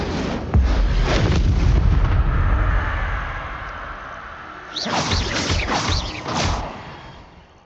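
Spell explosions burst in the Hogwarts Legacy video game, with a heavy booming blast and roaring rumble early on, then a second cluster of sharp crackling bursts and whooshes that fade out.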